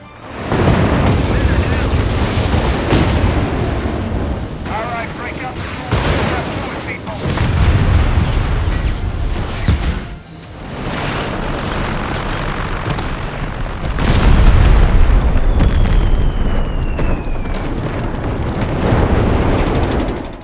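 Airstrike explosions in the real-time strategy game Company of Heroes 3, booming blasts and rumbling battle noise in dense, continuous succession, loud and close throughout with several heavier bursts.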